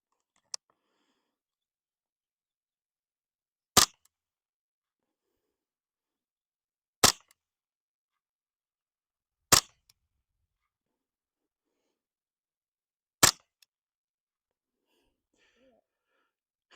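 Ruger 10/22 rifle shots fired at a distant target, four sharp, isolated cracks spaced several seconds apart, each brief and crisp against near silence, with a faint tick near the start.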